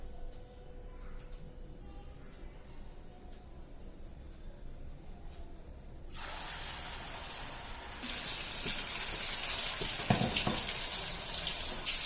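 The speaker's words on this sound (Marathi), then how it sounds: "आता आपण बोंबील त्याच्यात बेसन मध्ये घालून फ्राय करून घेऊया" Bombil (Bombay duck) fish coated in besan goes into hot oil for a Malvani-style fry. After a quiet start, a loud, broad sizzle erupts about halfway through and keeps crackling close by, with no speech.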